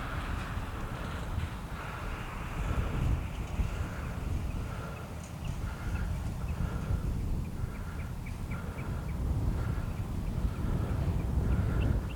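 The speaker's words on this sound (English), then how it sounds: "You can see the wind is kind of moving it a little bit." Wind buffets an outdoor microphone at an RC plane launch site, making a loud, continuous low rumble that runs the whole time, with faint chirping sounds in the background.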